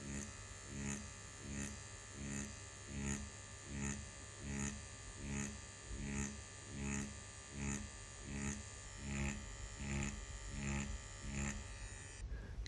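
An EZ P6 rotary tattoo pen running at 6 volts with a 3.3 mm stroke gives a close, steady mechanical buzz with a fast, even pulsing rhythm and a faint hum underneath.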